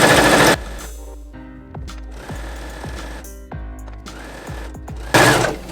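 Sewing machine stitching bias tape onto woven fabric, a steady rapid mechanical whir with rhythmic needle clatter, close and fairly loud, broken by brief louder bursts at start and end.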